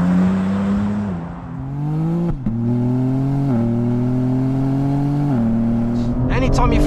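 A new BMW G82 M4 accelerates hard at full throttle from inside the cabin, its engine note climbing through the gears with short dips at each shift, loud and close.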